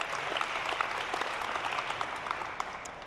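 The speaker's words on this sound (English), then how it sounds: "give him a round of applause" A biohacking event audience applauds a guest, a dense, sustained patter of many hands clapping at moderate loudness with no speech over it.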